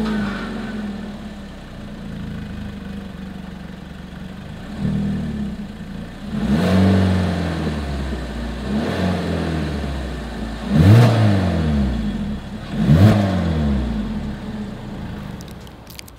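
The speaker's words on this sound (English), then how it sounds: "As always, here is that exhaust clip." 2022 Hyundai Kona exhaust idling, then revved in three or four separate swells that rise and fall back to idle, heard close up without talk.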